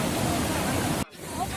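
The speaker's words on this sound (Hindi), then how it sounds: "और ये बहता पानी" Water rushes at the crowded Someshwar waterfall in a loud, broadband roar that cuts off abruptly near the end, leaving quieter background murmur.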